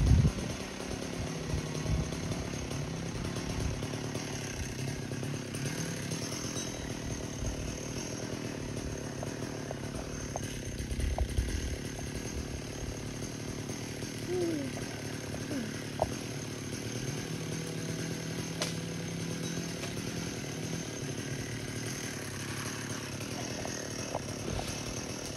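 A chainsaw cutting an old mangrove apple tree runs steadily throughout, its engine droning loudly with slight rises and falls as it cuts, with no voices.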